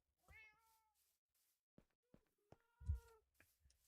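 A cat meows in a farm-themed video game: two clear, drawn-out meows with a few soft clicks between them, close and distinct against near silence, and no talking.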